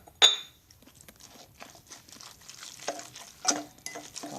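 Salmon croquette mixture being stirred together with two eggs in a bowl, a soft wet patter and scraping with a few sharper clinks of utensil against the dish, close and fairly quiet with no talk.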